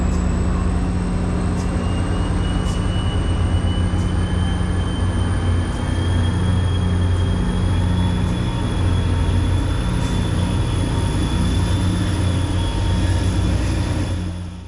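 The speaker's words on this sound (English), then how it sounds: "As train 6861 starts to depart the station" Metro-North commuter train 6861 departs South Norwalk station with a loud, steady, continuous rumble and high whine, close and sustained throughout without voices.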